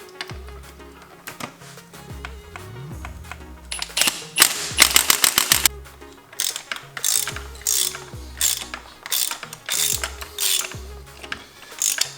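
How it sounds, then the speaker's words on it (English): An impact gun set to low power working on the spark plugs of a BMW N55 engine: rapid clattering mechanical hammering in short bursts, loud and close, separated by brief pauses and quieter whirring, with no speech. "I'll put this my impact gun to low power mode."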